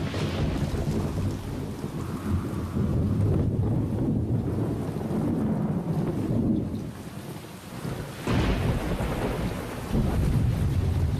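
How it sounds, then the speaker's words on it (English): Heavy rainstorm with rolling thunder, a dense loud rush of rain and wind with deep rumbles swelling and fading across the span, no voices. "A rainstorm can be deadly."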